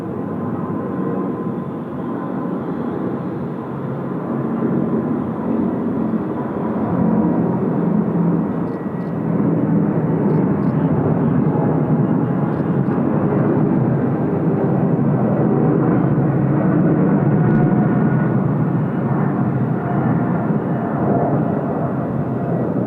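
A jet airliner departs runway 34 left at Sydney Airport, its engines a sustained, powerful roar that builds and holds for over twenty seconds, heard from a spotting position near the runway.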